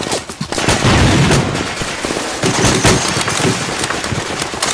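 Rapid bursts of battlefield gunfire from a Lego war film set at Brécourt Manor, Normandy 1944, loud and continuous with overlapping shots.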